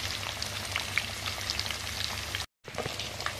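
Pieces of fish sizzle and crackle in hot oil, a dense rain-like hiss with scattered pops, close and steady, cut by a brief moment of silence before the frying resumes.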